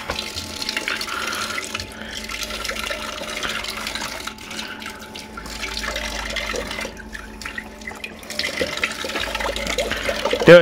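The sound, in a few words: water running from a tap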